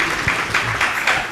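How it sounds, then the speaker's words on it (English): Brief applause from a conference audience, a short burst of scattered clapping with a few distinct claps heard in the room. "We can clap for him."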